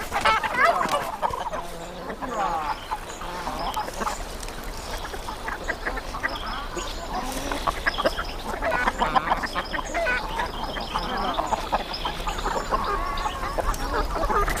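Free-range chickens, ducks and geese on a smallholding in Doñana, southern Spain, fill the air with continuous clucking, crowing and quacking, a busy overlapping flock chorus at close to mid distance with no pauses.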